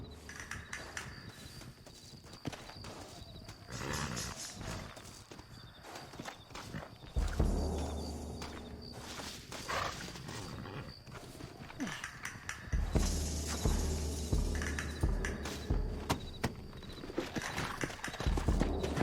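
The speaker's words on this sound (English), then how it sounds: "Looks like Carlos left us some horses." Horse hooves from the video game Red Dead Redemption clip-clop and thud in bursts, growing louder and heavier toward the end, with occasional snorts over a rumbling background.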